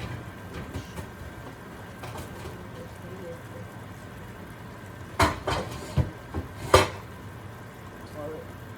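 Metal pot lids and pans clatter in a few sharp, close bangs over a low background hum, with softer clinks scattered before them.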